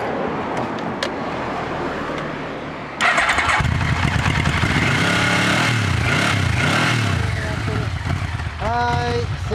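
A V4 motorcycle engine, apparently a 1998 Yamaha V-Max 1200, fires up abruptly and idles loudly nearby, its pitch rising and falling through a few revs, then a sharp throttle blip near the end.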